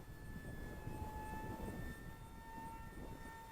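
A small sub-250g brushless ESKY Mini EYAS II FPV RC plane with 750mm wingspan flies slowly into the wind, giving a steady, thin motor whine with a few tonal lines over a rumbly, wind-buffeted background.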